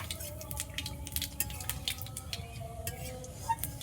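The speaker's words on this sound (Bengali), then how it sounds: "তেজপাতা, শুকনো লঙ্কা আর গোটা গরম মশলা আমি নিয়ে নিয়েছি, এই যে কড়াইতে দিয়ে দিলাম" Bay leaves, dried chillies and whole spices fry in bhetki fish oil in a kadai, giving a steady close sizzle with scattered crackles and light clicks of a stirring utensil throughout.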